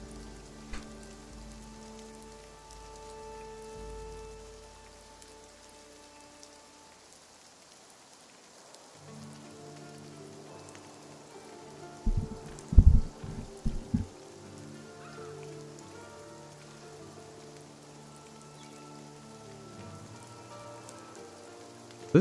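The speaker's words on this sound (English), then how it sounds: "it seems like it's raining directly over where the dark clouds are" Rain in a video game falls as a soft, continuous patter of drops, with tonal game music and a few sharp thumps in the middle.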